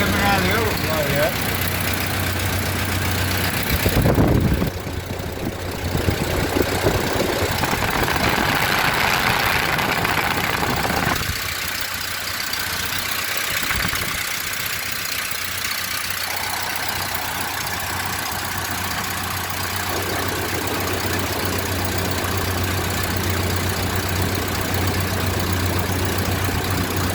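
A Model A Ford pickup engine idles inside a garage with a fan running nearby, a steady low rumbling hum throughout with a brief louder disturbance early on.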